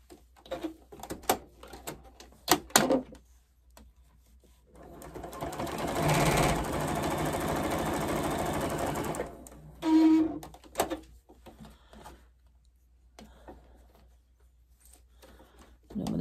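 A sewing machine back-stitching fabric and batting for a soup bowl cozy, a steady mechanical whir of about five seconds between soft handling clicks and rustles, then a brief second burst.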